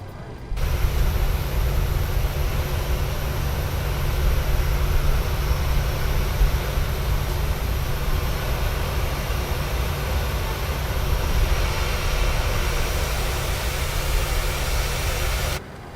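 A Boeing 737-800 BBJ2 engine runs steadily just after start in Microsoft Flight Simulator 2020, a loud broadband roar and whine holding constant for the whole span before stopping abruptly at the end.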